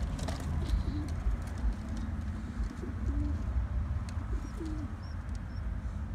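A pair of tippler pigeons coo in soft, low, repeated calls from near a breeding box, with a few faint high chirps over a steady background hum.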